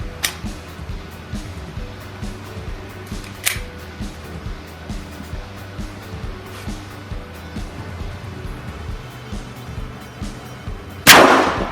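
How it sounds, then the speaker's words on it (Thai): Taurus G2C pistol fired at a steel plate target on a range, with a few sharp, loud shots spaced seconds apart and a final heavier blast, over a low steady background hum. "ตัวปืนกระบอกนี้นะครับ ยิงกับเพลทเหล็กเป้ากลางนะครับ พร้อมแล้วเริ่มยิง"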